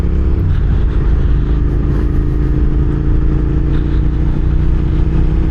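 A 2006 Suzuki SV650S motorcycle engine hums loudly and steadily while riding, a constant mid-pitched drone mixed with wind rush, with no talking.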